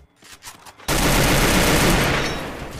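A shotgun fires in a first-person shooter game, a sudden loud, close blast that erupts after a moment of quiet and rings out in a dense, sustained roar that slowly fades.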